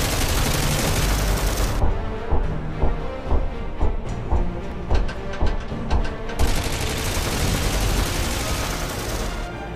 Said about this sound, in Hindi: ये गन 1 मिनट में 800 गोलियां फायर करती है।